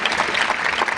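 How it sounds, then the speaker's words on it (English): A business keynote audience gives a round of applause: dense, steady clapping from many hands filling the hall, loud and continuous with no voices. "Everyone give another big round of applause for Melissa, Julia, and Julie"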